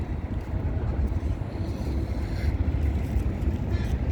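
Boats on the wide Meghna river, including large ships and small fishing craft, give a low, continuous engine-and-water rumble mixed with steady wind buffeting, with no clear voices.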